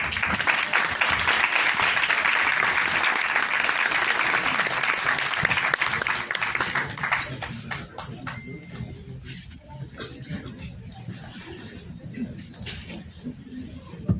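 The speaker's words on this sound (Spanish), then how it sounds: "Lo despedimos con un cálido y fuerte aplauso" A warm, loud round of applause from a conference audience at an event on Agenda 2030 and the SDGs, dense clapping for about seven seconds, then thinning to scattered claps and a few faint voices.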